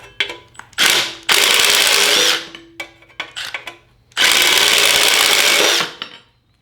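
A DeWalt shear attachment slices through sheet metal in two long, loud, steady bursts of harsh high-pitched cutting, separated by short clicks and handling clatter.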